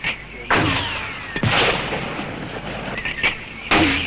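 Heavy American mortars fired by Kurdish Peshmerga against Iraqi troops in 1966 boom in a few loud, separate blasts with rumbling tails, recorded on old, noisy film sound.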